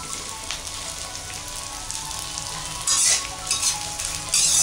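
Edible gum (gond) roasts in a pan for besan laddu, giving a continuous crackling sizzle with stirring scrapes and louder bursts of popping near the end.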